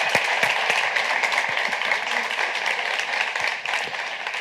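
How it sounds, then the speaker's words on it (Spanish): An audience at a neuroscience talk applauds steadily for a few seconds, a dense wash of clapping heard from within the room at moderate loudness. "Pues un aplauso para Luis."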